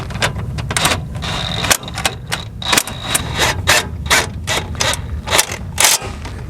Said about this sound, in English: So now we gotta tighten up these bolts here.